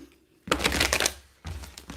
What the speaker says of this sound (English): I don't even know if that shuffled good. It just looked like cards just went flying everywhere.